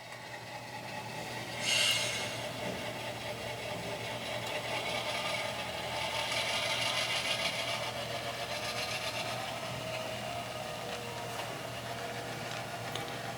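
A model locomotive fitted with a sound decoder runs on a layout during switching of tank cars, giving a quiet rhythmic chuffing and wheel rumble with a brief brighter hiss early on, soft and steady without talk.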